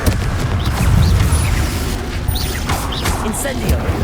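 Confringo spell blast in the video game Hogwarts Legacy, a loud booming explosion with dense low rumble and crackling debris, followed by sustained noisy battle effects.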